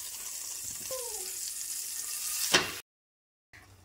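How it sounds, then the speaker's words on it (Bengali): A noodle and egg breakfast snack frying in a pan, with steady sizzle, a couple of gliding scrapes as it is flipped and a louder clatter before a sudden cut to silence. "এবার আমি নাস্তাটা উল্টিয়ে দেব।"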